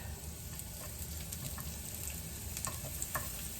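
Onion and red pepper fry in olive oil with a soft, steady sizzle and crackle, dotted with light stirring clicks.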